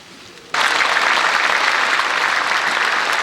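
Legislators in the National Assembly rise in a standing ovation, dense loud applause bursting in suddenly after a quiet moment and holding steady throughout.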